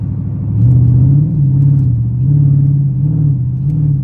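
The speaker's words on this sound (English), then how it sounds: "I know you hear that intake." Dodge Challenger SRT8 engine and intake roaring from inside the car while driving, a loud deep continuous rumble that swells and eases with the throttle, with no talking over it.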